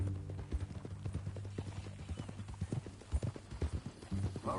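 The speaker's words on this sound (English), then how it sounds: "That a new horse?" Horse hooves clip-clopping in Red Dead Redemption 2, a steady run of close, distinct hoofbeats over a low ambient bed, with a brief snort or whinny toward the end.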